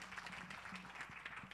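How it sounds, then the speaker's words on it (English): A seated audience applauds four panelists at the close of a casual end-of-term academic panel discussion, steady dense clapping filling the room at moderate volume. "hand of applause for the four panelists"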